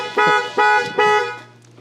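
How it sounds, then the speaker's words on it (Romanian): Three loud, close honks sound from the horn of a JAC T8 Pro pickup, each a short blaring tone with brief gaps, the last one fading out. "Și claxonează. Doar că ăsta claxonează tare."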